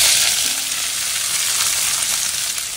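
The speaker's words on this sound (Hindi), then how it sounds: "अब उसी के साथ उबले हुए स्वीट कॉर्न और कैप्सिकम ऐड करेंगे" Boiled sweet corn and capsicum sizzle loudly in hot oil in a pan for corn paneer sabzi, a dense, steady frying hiss up close with faint stirring and no voices.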